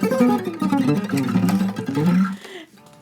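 An electric guitar is played as fast as possible across the fretboard in a rapid, dense flurry of notes for about two and a half seconds, then falls away into a faint decay.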